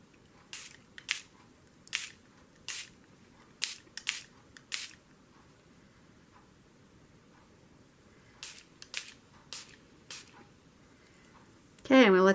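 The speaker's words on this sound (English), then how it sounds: "And a little bit of a spritz, try not to get it too wet." A spray bottle gives a series of short, sharp spritzes onto parchment paper, in quick clusters with pauses between, close and fairly quiet, ending with a brief louder rustle.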